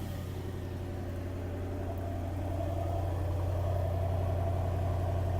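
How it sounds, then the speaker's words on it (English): A 2024 Mercedes-AMG GT 63 S E Performance V8 rumbles after a cold start, a steady, deep, loud idle with a strong low hum and no voices. "So let's go and check this cold start. It's absolutely phenomenal to hear that."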